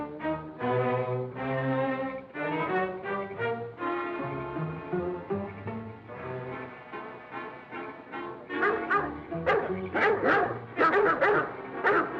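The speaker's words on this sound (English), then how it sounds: "Hear those dogs?" A pack of dogs barking and baying together, loud and continuous, with yips and howls piling up toward the end.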